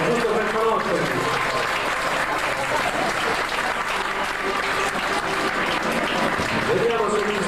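Audience applause for contestants on stage at a 1995 village race event in Sardinia: continuous crowd clapping throughout, loud and even, with a voice talking over it and background murmur.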